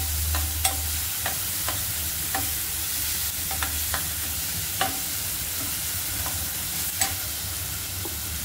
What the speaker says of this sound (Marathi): आता टाकूया आपण टमाटर, आपल्याला मसाला खूप चांगला भाजून घ्यायचा।